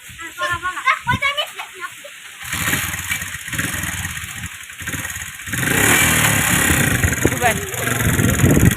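A motorcycle ridden by a young brother runs nearby, its engine humming and rising in revs with a steady drone that grows louder, while people talk over it.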